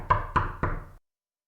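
Three sharp knocks on a door, evenly spaced and close, in a clean audio-drama sound effect that stops into silence.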